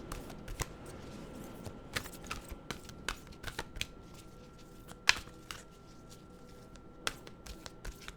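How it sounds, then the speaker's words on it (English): Esther and Jerry Hicks well-being cards are shuffled by hand, producing faint, scattered papery flicks and taps at irregular intervals against a quiet background. "I do have Esther and Jerry Hicks well-being cards here, and we're going to pick one for you for the month."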